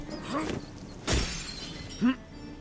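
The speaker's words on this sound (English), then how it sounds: "God, I love how you can just walk into stuff and it breaks." Objects breaking apart in the video game Fallen Aces as the player walks into them: a sharp shattering crash near the middle, then a short smaller clatter, over a busy game background.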